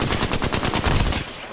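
Video game gunfire in an online battle royale match: a rapid, loud automatic burst of close shots in an even rhythm that lasts the full moment.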